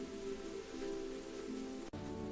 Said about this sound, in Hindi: कुछ दिन बाद बारिश हुई।